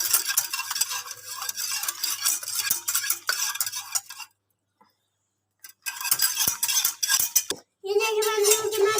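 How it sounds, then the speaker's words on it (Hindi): Sugar being stirred into hot chocolate coffee, a rapid continuous scraping and clinking of a spoon against the vessel, stopping for about two seconds of silence before resuming, with a brief murmur near the end. "अब मैं इसको मिक्स करने लगा हूँ चीनी डाल के।"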